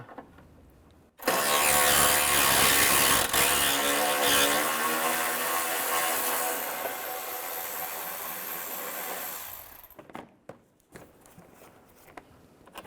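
A power ratchet fitted with a 10mm socket backs a bolt out of a 2005-2010 Chevrolet Cobalt during a clutch slave cylinder replacement. It gives one loud, steady motor whine lasting about nine seconds, followed by a few quieter clicks and knocks.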